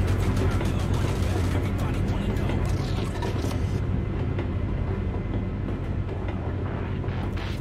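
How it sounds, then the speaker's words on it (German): A train passes in the Euro Truck Simulator 2 driving game. The rolling rumble is loud and continuous, then its upper hiss drops away partway through while the heavy low drone carries on. "Kommt da schon wieder ein Zug, was ist da oben los?"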